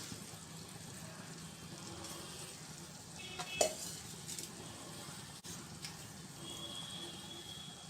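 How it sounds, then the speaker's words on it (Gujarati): Boiled cauliflower and mixed vegetables are tipped into a pan for Mumbai-style pav bhaji and stirred, giving a steady soft sizzle with a brief clatter of utensils partway through, close and moderately quiet. "બાફી લીધું છે સહેજ મીઠું નાખીને હવે આપણે એમાં આ શાકભાજી ઉમેરી દઈશું"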